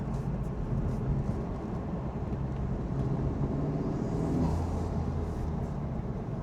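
Turbocharged engine of a Honda Civic Type R fitted with a PRL drop-in intake filter, a steady low rumble of idling and light revving that holds close and even throughout, with a slight swell near the end.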